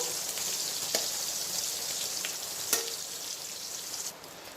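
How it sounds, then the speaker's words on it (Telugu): Pieces of salted fish fry in a pan, giving a soft, continuous crackling sizzle with a few sharper pops spread through it. "ఈ విధంగా మంచి కలర్ వచ్చేంత వరకు వేయించుకోవాలి"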